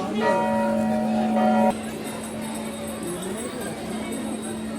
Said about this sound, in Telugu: గంట చూడండి ఎంత పెద్దగా ఉందో అందరు దాన్ని కొట్టడానికి ట్రై చేస్తారు